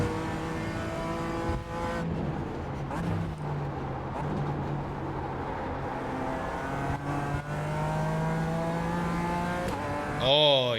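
A Toyota GR86 races at Mugello in a driving game, its engine revving up and shifting through the gears repeatedly, rising and falling pitch close and loud, with a brief squeal near the end.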